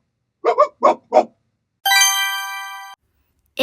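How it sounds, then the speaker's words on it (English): Dog barking, three short sharp barks in quick succession, close and fairly loud, followed after a pause by a bright ringing chime that sustains for about a second. "It's a dog barking."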